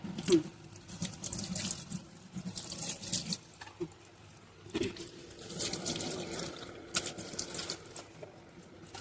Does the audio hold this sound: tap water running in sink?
yes